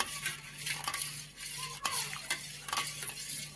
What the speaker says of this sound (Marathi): हे चांगलं असं मिसळून घ्यायचं आपल्याला